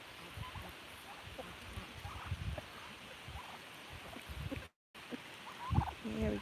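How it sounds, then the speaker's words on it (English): Turkeys gobble and chatter on a rural South Dakota farm while eating corn, with scattered calls over a constant outdoor hiss and one louder burst of gobbling near the end. "There we go. Turkeys are happy."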